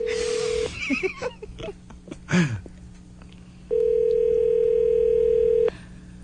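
Telephone ringback tone heard over a call while waiting for someone to pick up, a steady tone that breaks off, then muffled chatter and movement, then a long steady tone returns, close and clear.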